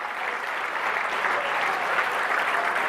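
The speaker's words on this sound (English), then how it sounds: "Thank you very much, and a round of applause." A crowd at a charity gala auction applauds steadily after a lot is sold, a thick, even wash of clapping that holds throughout without a break.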